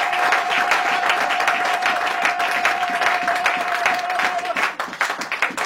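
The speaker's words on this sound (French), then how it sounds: "donnons une acclamation au Seigneur" A church congregation applauds the Lord in a dense, steady wave of clapping and cheering that fills the space, with a sustained tone running beneath most of it before cutting off near the end.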